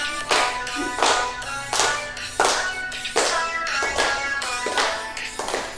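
Steady rhythmic hand clapping in a classroom, crisp claps repeating roughly every second, with singing voices carrying a tune alongside.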